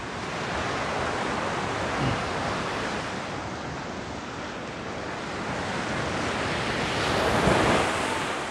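Ocean surf at Wediombo beach in Gunung Kidul, fairly high waves producing a continuous broad roar with swelling wash peaks and wind buffeting the microphone, no talking.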